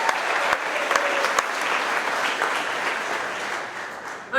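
Workplace audience at a trucking company's monthly employee celebration breaks into steady, dense applause with a few scattered cheers, sustained throughout and slightly fading near the end.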